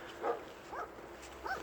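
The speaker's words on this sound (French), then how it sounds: "je me fais poursuivre par des chiens tout le temps" Dogs barking on a street in Athens: three short, distant barks spaced across a couple of seconds over low outdoor background noise.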